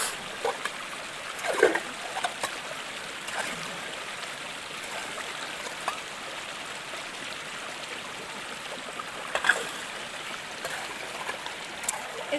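Water rushes steadily along a mountain canal in hilly countryside, a continuous close hiss and gurgle with occasional small splashes and knocks.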